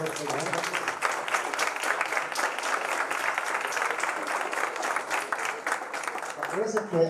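Audience at an international public accounting conference breaking into sustained applause, a dense, steady wash of many hands clapping throughout, with a voice cutting in briefly near the end.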